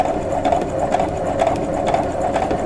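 Sewing machine stitching quilt block units of half-square triangles for a pinwheel block, a steady close mechanical whir with a fast rhythmic needle clatter running continuously and alone.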